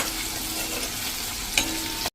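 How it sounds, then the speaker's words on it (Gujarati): Onions frying in tempering oil in a pan over a low gas flame, a steady close sizzle with a brief stirring clatter near the end before it cuts off. "ગેસની ફ્લેમ સ્લો ફ્લેમ ઉપર જ વઘાર કરવાનો"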